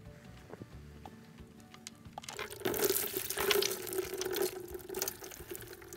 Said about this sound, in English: I will pull the drain plug, just loosen it a bit, and we'll watch until the water changes to oil.